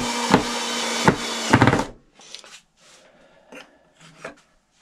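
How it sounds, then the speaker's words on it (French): A screw goes back into a freshly drilled hole in the wood of a crosscut sled for a table saw: three sharp close knocks, then several softer grinding twists as it seats. "Et je remets ma vis."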